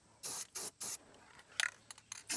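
Spray gun bursts while painting parts of a rebuilt GMC truck: three steady hissing blasts of about a third of a second each, then a run of shorter, uneven sprays, close and loud.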